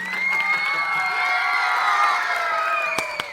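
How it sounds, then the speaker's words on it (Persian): Children cheer and shout together in a lively burst at a neighbourhood gathering, a sustained chorus of young voices rising with a few sharp claps and whoops near the end. "تشویق"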